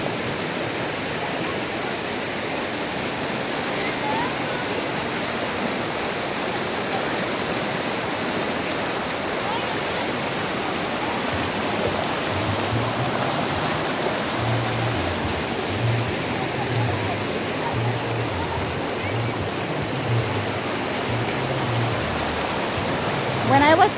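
The River Cuale in Puerto Vallarta, Mexico, rushing over stones as a continuous broadband roar of flowing water, steady and close. A low rumbling pulse rises beneath it in the second half.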